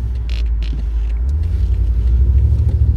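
BMW M6 Competition on the road, a deep steady engine rumble with tire and road noise, loud and close from inside the cabin.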